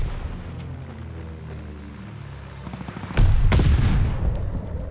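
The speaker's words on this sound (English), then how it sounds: "Teammate called a bombing run." A bombing run in a video game opens with a low rumbling drone. Around the three-second mark, heavy explosions boom loud and close, then a dense roar of blasts sustains to the end.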